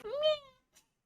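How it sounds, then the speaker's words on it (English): A cat gives one short, close meow that rises and falls, followed by a brief faint rustle and a quick second chirp-like meow. "Cats. Little meow."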